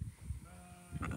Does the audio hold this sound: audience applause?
no